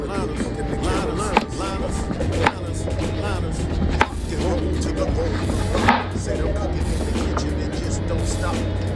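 A knife slices an onion into rings on a cutting board, giving a few sharp, evenly spaced chops that poke through steady talking and a low background hum.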